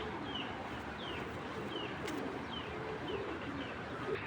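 Racing pigeons in a loft give repeated soft low coos at a regular pace over a dense background hiss, with faint chirps, moderately near and no speech.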